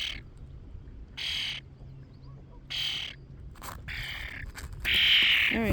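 A friendly wild bird gives loud, harsh chirps and squawks close by in separate bursts, the calls spaced a second or so apart and growing longer toward the end, with no talking.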